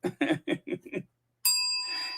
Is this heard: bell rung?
yes